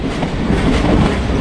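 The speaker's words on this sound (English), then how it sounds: "Just wait for the one train that comes down." A video-game train rumbles down its track, a loud, close, continuous low roar with rolling wheel clatter, heard alone for a moment with no voices.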